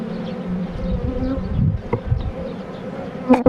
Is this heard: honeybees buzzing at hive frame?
yes